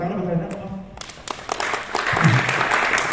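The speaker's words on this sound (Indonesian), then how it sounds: "Tepuk tangan buat kalian apa?" A youth church service audience claps in a short burst of applause that rises after a moment of talk and carries on loudly to the end, with voices mixed in.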